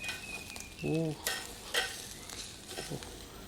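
Pork grilling in a pan with fat dripping, a soft sizzle under scattered clinks and scrapes, with a brief voice-like tone in between.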